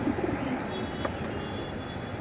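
Jabra Pankhi pigeons cooing in a loft, low soft coos repeating early on, fairly close, over a steady hiss of background noise.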